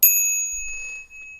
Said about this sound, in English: They rang a small bell.